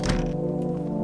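Banging on a door inside a video game: a single heavy thunk up front, then a steady low hum fills the rest of the short clip.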